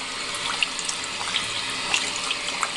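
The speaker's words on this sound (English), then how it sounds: "Wash my hands. Rinse them real good." A tap runs steadily into a sink while hands are rinsed, giving a continuous close hiss of water with small splashy variations.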